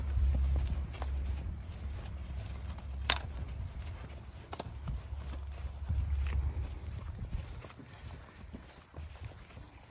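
Draft horses walking into their stalls, with hooves clopping steadily on a hard floor in an uneven walking rhythm under a continuous low rumble of wind or barn noise.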